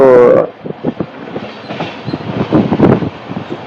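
A short horn-like tone opens, then the Rani Chennamma passenger train from Tumakuru to Dharwad rumbles along the rails with rhythmic clacking and rattling, loud and close.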